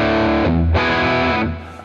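An electric guitar plays through an Axe Fx II preset with compressor, drive, amp and cab, quarter- and eighth-note delays and reverb. It gives sustained distorted chords, one change midway and a ringing decay at the end.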